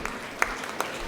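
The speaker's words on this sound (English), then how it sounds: "Give me a big round of applause." Fairly faint applause from an audience at the 2024 Kudremukh Trophy prize distribution, a thin, brief patter of clapping with a few sharper individual claps standing out.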